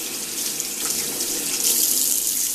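A Real Techniques makeup brush is rinsed under a running tap, giving a steady, close hiss of flowing water splashing into a sink, loud and continuous with no talk.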